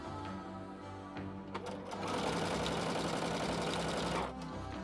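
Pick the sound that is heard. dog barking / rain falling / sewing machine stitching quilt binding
sewing machine stitching quilt binding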